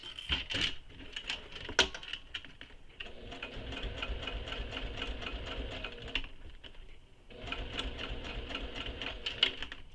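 A sewing machine stitching a circular bag runs in rapid mechanical bursts of needle clatter, pausing briefly between runs, close-up and moderately loud, with no talking.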